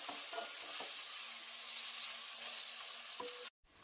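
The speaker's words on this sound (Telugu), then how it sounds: "పుదీనా ఫ్రై అయిపోయిందండి." Mint leaves fry in a pan for mutton biryani, giving a steady close sizzle with a few light stirring scrapes, before a brief silence and a sharp sound at the very end.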